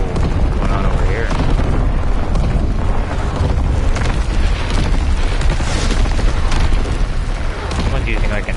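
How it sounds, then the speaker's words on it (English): Airstrike explosions rumble in Call of Duty: WWII, a dense, loud, continuous barrage of booms and bursts filling the whole stretch, with a voice talking over the battle. "Someone's using like an airstrike or something."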